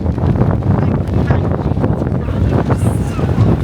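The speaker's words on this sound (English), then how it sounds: "It's a bit windy." Steady wind blows across the microphone at a marathon's outdoor marketplace in Brighton, a continuous low rumble, gusting slightly, with muffled voices faintly in the background.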